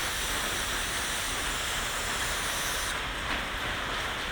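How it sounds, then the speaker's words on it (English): A hose or sprayer blasting water across a floor in a basement studio, a steady loud broadband hiss that holds throughout and shifts slightly in tone near the end. "we're fucking spraying this shit down."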